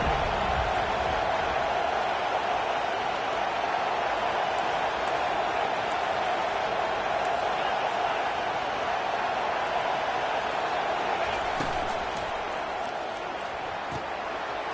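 Stadium crowd at a college football game in College Football 25, Clemson versus NC State: a steady, dense roar of many voices holds at an even level for the whole stretch and eases slightly near the end.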